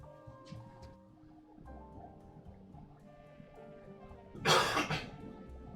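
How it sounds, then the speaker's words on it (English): One loud, sharp cough bursts out near the end of an otherwise quiet stretch. Faint low background sounds and room tone come before it. "I actually muted the mic and that sounded louder than any other time I've coughed recently on stream."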